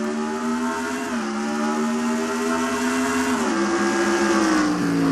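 Race cars in a NASCAR racing video game accelerate on a restart at New Hampshire with a steady, droning engine whine that climbs in pitch, dips briefly and climbs again, continuous and fairly loud.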